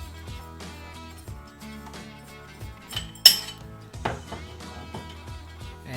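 Metal and hard parts of a GSG 522 .22 rifle's silencer shroud clink and clatter as it is handled and taken off, light knocks with one sharp metallic clank midway, no talking.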